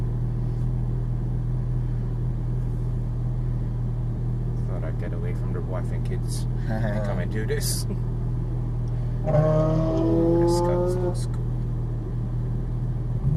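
Porsche GT3 engine rumbles low and steady while driving on a Las Vegas course, a constant near drone under conversation between two people in the car.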